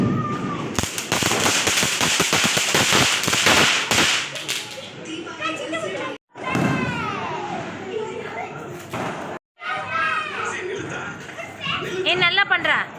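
Firecrackers burst nearby in a dense crackling volley of sharp pops, then louder bangs after short gaps. People talk and exclaim over the noise.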